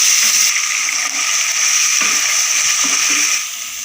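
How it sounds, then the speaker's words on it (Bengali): Onion, ginger and garlic paste fry in hot oil with a loud, continuous close-up sizzle, occasionally broken by soft stirring scrapes, easing slightly toward the end. "তেলের মধ্যে দিয়ে দিলাম পেঁয়াজ বাটা আদা বাটা রসুন বাটা"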